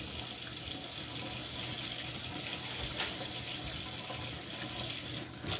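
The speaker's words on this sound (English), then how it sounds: "I got my fork and now I am, rinsing it out in the water" Water runs steadily from a tap for several seconds, a constant hissing splash with a few louder spatters.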